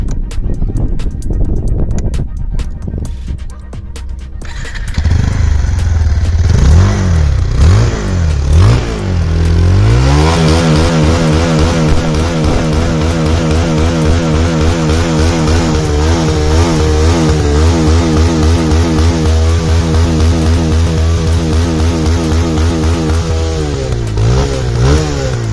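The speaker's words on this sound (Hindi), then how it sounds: "ये है इसकी ओरिजिनल साउंड, एग्जॉस्ट की साउंड।" A Bajaj Pulsar 220 motorcycle starts and idles with a loud, close exhaust note, then revs repeatedly in rising and falling sweeps before settling into a steady, throbbing idle.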